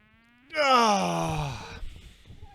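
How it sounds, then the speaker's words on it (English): A long drawn-out yawn, one sustained voiced groan from a person streaming at 4 a.m., rising then falling off after about a second and a half, close to the mic. "Sorry about the yawning."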